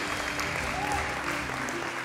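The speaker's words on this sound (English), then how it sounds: "Keep clapping. Keep clapping." Guests at a 50th birthday celebration clap steadily for the celebrant as he walks to the stage, a dense continuous patter with music or voices faintly underneath.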